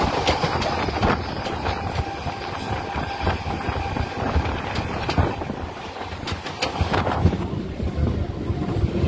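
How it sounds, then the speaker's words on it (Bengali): A local train running between Bandel and Barddhaman rumbles steadily with broadband rattling and rushing wind noise, loud and continuous from onboard, with faint clanks throughout. "ট্রেন ছুটে চলেছে"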